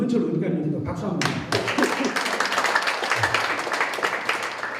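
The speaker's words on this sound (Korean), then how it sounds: "김원철 의원님께도 박수 한번" An audience at a Monday prayer meeting for peaceful reunification bursts into applause, steady clapping that picks up and carries on under someone speaking.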